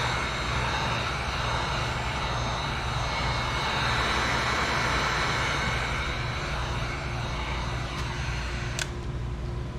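A heat gun blasts steadily across wax-coated canvas fabric as the wax melts and boils into the material, a continuous loud blowing roar with no talk.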